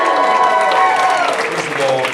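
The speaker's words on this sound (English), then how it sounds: "Another round of applause for our wonderful" An audience applauds steadily at the Saboten-Con 2025 anime convention closing ceremony, a dense wash of clapping from a large crowd that carries on under a voice speaking over a microphone.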